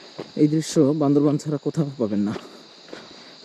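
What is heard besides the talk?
crickets chirping in the jungle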